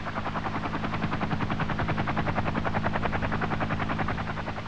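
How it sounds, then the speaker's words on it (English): A CH-47 Chinook helicopter flies while carrying an M54 Chaparral launcher, its rotors producing a steady, rapid thudding beat over a loud engine drone, continuous and close throughout. "the Chinook carrying the M54 launcher will fly at about 70 knots"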